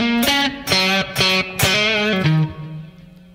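An electric guitar plays the opening measure of an intro through distortion and effects boxes, several loud sustained notes and bends in a rhythmic phrase with sharp attacks, ending on a fading note, with no talking.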